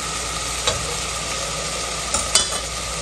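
Potatoes mixed and frying in half a cup of oil for aloo baigan salan: a steady loud sizzle close up, broken by a few sharp spoon scrapes against the pan, with no voices.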